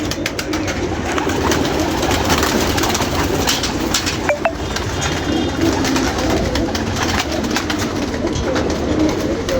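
Pigeons cooing in a loft in Lahore, a steady dense chorus of soft bird calls running through the whole stretch with constant background noise, fairly close and even in loudness.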